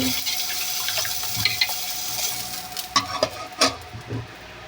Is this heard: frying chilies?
yes